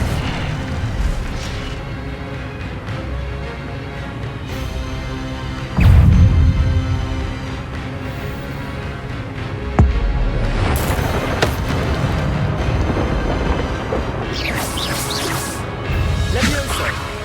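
The Incendio fire spell is cast in Hogwarts Legacy combat, bursting out as sudden booming whooshes and crashes amid an ongoing clamor of battle effects. Someone talks throughout.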